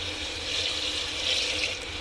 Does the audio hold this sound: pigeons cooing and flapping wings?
no